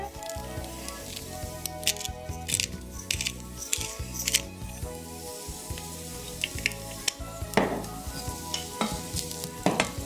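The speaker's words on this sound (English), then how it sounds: "I'll be stirring. Gently stir it." Food sizzles steadily in a frying pan with black pepper and balsamic vinegar while a utensil stirs it, producing scraping clicks and bursts of crackle over a continuous hiss, close and fairly loud, with no talking.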